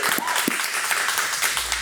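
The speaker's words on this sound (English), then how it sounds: "Give yourselves a round of applause." Studio audience clapping steadily through a short stretch, close and fairly loud, with a few individual hand claps standing out.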